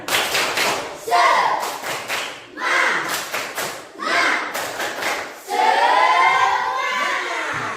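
A group in Indonesia does a spirit clap in short rhythmic bursts, with voices calling out between and over the claps, ending in a longer cheer.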